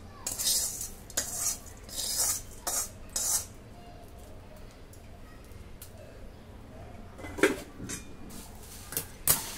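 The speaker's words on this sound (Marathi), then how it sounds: "आता हे सर्व मिक्स करून घेते" Puffed rice being tossed and stirred in a wok for bhadang, with a run of close, sharp metallic scrapes and rattles in bursts, a quiet gap, then a few more clanks at the end.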